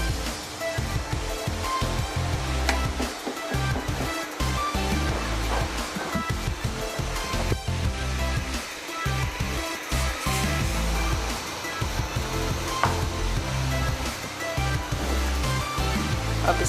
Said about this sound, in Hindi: 10 मिनट के लिए हल्की आंच पे पकाते हैं इसको